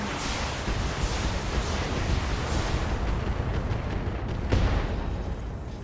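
Cannon fire at a Lynx mech in the BattleTech video game rumbles through a dense, noisy wash of battle sound, with one sharper blast standing out near the end.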